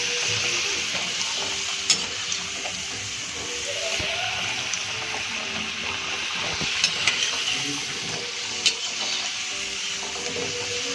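Potato fries sizzle in hot oil for a crispy chilli potato dish, a steady close hiss with periodic clinks and scrapes as they are stirred.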